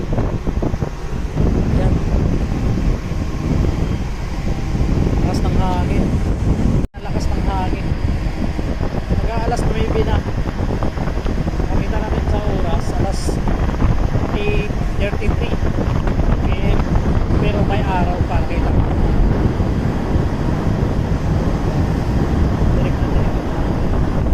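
At night, a ship sails through European waters while strong wind buffets the microphone in a constant loud rush over a low engine rumble that continues unbroken throughout.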